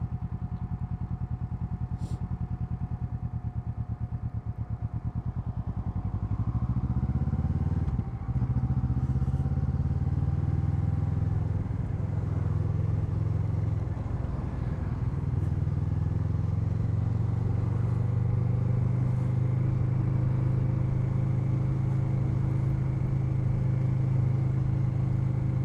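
A Kawasaki Z650 motorcycle fitted with an Akrapovic exhaust is ridden, its engine droning loud and close with rising and falling revs as it accelerates and shifts.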